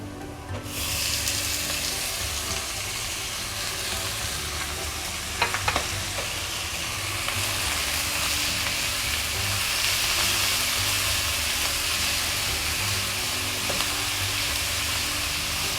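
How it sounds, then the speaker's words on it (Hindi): Minced meat goes into a pan of lightly browned onions in a home kitchen and sizzles steadily throughout, a continuous loud fry with a few brief utensil clinks and stirring scrapes; no one speaks. "अब हम डालते हैं इसमें कीमा।"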